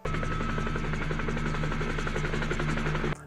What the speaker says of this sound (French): l'hélico ne peut pas se poser au sol pour nous déposer. Donc on doit faire une opération de treuillage